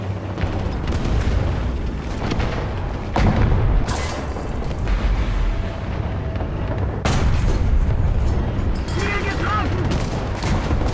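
Tank cannon shots boom in a War Thunder battle between Tiger and Jumbo tanks, a few sharp heavy blasts standing out over continuous rumbling battle noise, with someone talking over it.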